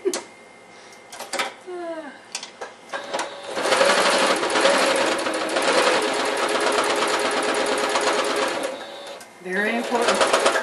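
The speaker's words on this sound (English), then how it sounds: "sew along the crease, right on the crease" A sewing machine stitches along a crease in cathedral window quilt fabric, a fast steady mechanical whir running for several seconds, with a person talking before and after the run.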